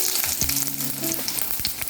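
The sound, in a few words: curry leaves frying in hot oil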